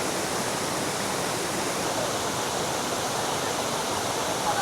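A waterfall in Siquijor, Philippines roars as a steady, dense rush of falling water, loud and close, with no break or change in level and no voices.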